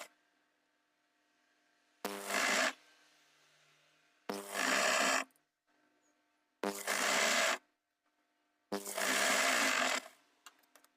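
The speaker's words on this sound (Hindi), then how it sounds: "ऐसे पलटने के बाद इस पे किनारे की सिलाई लगा देनी है।" A sewing machine stitches along a trouser edge in four separate bursts of a few seconds each, loud and close, with near silence between runs.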